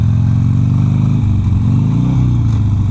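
A Harley-Davidson motorcycle engine rumbles loud and close, its deep throb stepping down in pitch as it shifts from first into second gear.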